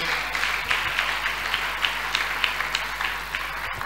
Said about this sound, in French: Est-ce qu'on peut donner des acclamations à notre Dieu?